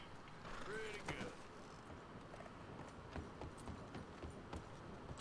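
Horse hooves clip-clop at a steady walking rhythm in the Red Dead Redemption 2 video game, fairly faint and continuous, with a brief whooshing swell near the start and game voices murmuring beneath.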